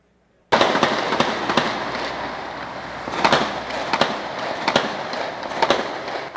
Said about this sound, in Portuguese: Tiros que ecoavam como em uma guerra e deixavam gente de bem apavorada.